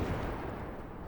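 Begleitpanzer 57 tank gun firing in the Armored Warfare video game, a dense, muffled rumble of heavy gunfire and blasts filling the whole moment with no clear separate shots.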